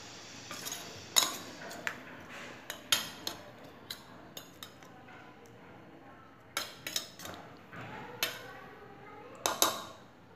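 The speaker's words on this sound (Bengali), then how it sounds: "ভেজে রাখা আলুটা দিয়ে মশলার সাথে মিশিয়ে নেব।" A spoon or spatula works fried potatoes into spices in a pan, with scattered metallic clinks and scrapes coming in short clusters over a quiet background, close by and with no voices.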